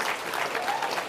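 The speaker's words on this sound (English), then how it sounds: "We can just clap because they're all getting awards" Audience applause fills a Canadian Cinema Editors Awards ceremony as winners are announced: a dense, steady wash of many hands clapping, continuous and even from start to finish.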